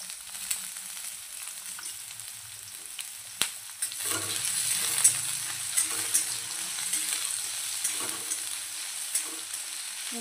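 Garlic, onion, bay leaf and whole spices frying in oil in a kadhai for mutton Afghani, a steady close crackling sizzle with occasional stirring scrapes and pops, no voices.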